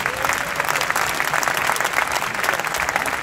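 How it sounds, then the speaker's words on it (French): A large audience at a 2020 Paris event applauds the introduction of French president Emmanuel Macron, a full, steady roar of clapping that holds at a constant level throughout. "je vous demande d'applaudir"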